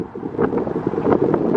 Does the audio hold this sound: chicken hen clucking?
no